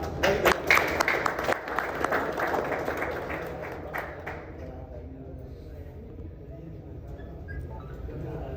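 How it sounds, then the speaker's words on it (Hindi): Crowd applause at a bench press championship in a fitness gym, loud clapping for the first few seconds that dies away into murmuring, with people talking underneath. "गर्मजोशी के साथ आप लोग तालियों की गड़गड़ाहट के साथ"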